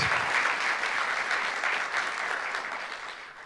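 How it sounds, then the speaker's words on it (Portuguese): A church congregation claps for Jesus during a sermon, dense continuous applause filling the room at a fairly loud, even level and fading slightly toward the end, with no voices over it. "Dê uma salva de palmas a Jesus."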